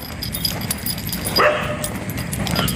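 Dogs bark in a neighbourhood, a brief yelping bark standing out midway against steady background noise, with more distant barking suggested around it.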